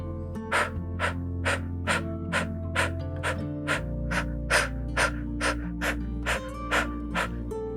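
Quick, forceful breaths repeat in a steady rhythm, a dozen or more in a row, each exhale pulling the belly in during a one-minute breathing exercise, over a low sustained hum.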